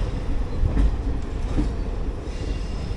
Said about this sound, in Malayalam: അപ്പോൾ ഇതാണ് അമൃത് ഭാരത് എക്സ്പ്രസ്.